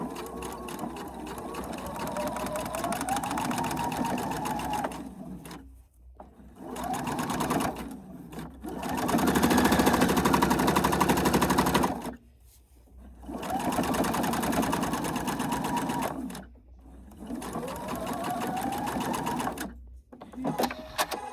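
A sewing machine stitches a quarter-inch seam in several steady runs that whir loudly. Short pauses separate the runs, and the motor changes pitch as it speeds up and slows down.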